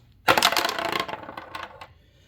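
Dice are rolled for a board wargame set in spring 1917, giving a sudden loud clatter that tumbles and rattles for about a second before settling into a few fading clicks.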